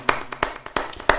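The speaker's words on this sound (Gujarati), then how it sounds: "હું એમને તાળીઓના ગડગડાટથી વધાવું છું" Scattered, sparse hand claps from a small audience at a Gujarati devotional song and poetry gathering, a handful of sharp separate claps spaced irregularly, fairly close and moderately loud, with no talking.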